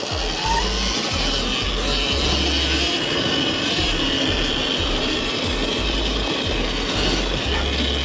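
A Thunder Wasp XR 16, a 16 kW electric motorbike, is ridden with a steady, loud rush of wind and a motor whine that continue without a break, with faint low bumps underneath.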